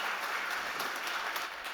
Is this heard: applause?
yes